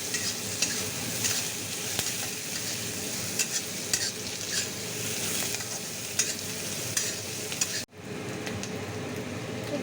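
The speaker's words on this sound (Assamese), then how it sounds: "কেঁচা জলকীয়া আৰু আদা নহৰু অকণমান বটা লৰাই দিছোঁ।" A spoon steadily stirs chopped onion with green chilli, ginger and garlic paste frying in hot oil, a continuous close sizzle with soft scraping strokes, cutting out abruptly near the end.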